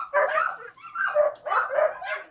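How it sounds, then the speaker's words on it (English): Several dogs barking and yipping in a kitchen, sharp repeated bursts in three clustered volleys with brief pauses between, fairly loud and close, with no talk over them. "There's dogs in there. Dogs in the kitchen."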